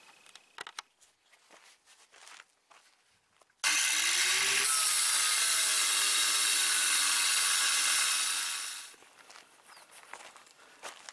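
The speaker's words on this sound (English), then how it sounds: "that was a lot of work for my little tiny cutoff saw" A small cutoff saw cuts through a homemade rocket motor tube, a loud sustained high-pitched grinding whine lasting about five seconds that starts abruptly and winds down, with quieter handling clatter before and after.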